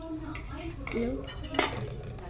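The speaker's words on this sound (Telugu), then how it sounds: "అన్నీ వేసుకొని బాగా కలుపుకోవాలి ఫ్రెండ్స్" Carrot roti ingredients mixed in a bowl, a few clinks and scrapes of a spoon against the dish, then a bright metallic knock, close and brief.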